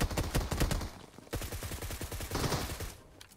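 Rapid bursts of automatic gunfire in PUBG Mobile, two clusters of sharp, quick-fire shots close by, with a brief gap between them and a fainter tail at the end.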